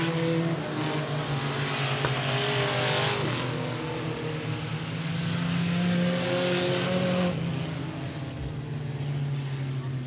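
Race cars roar around a speedway oval during a regular race program, engines droning continuously and rising and falling in pitch as they pass through the turns, with a commentator's voice under the noise.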